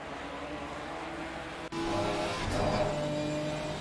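Race car engines in a Ginetta Cup sim race at Spa-Francorchamps drone steadily at mid pitch, with a brief dropout and then louder revving as cars pass close by, without talk.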